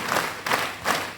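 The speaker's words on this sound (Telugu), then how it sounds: "గట్టిగా ఈ క్లాప్స్ అన్నీ కూడా మీకే" An audience claps in unison, giving three broad, rhythmic bursts close together, each with a soft thudding edge. No other sound is heard between the bursts.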